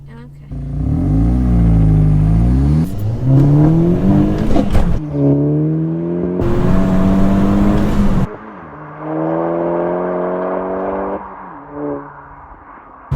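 A stage 1 remapped MK5 VW Golf GTI accelerating hard with wheel spin, its engine loud and close as the revs climb, drop and climb again through several surges before easing off.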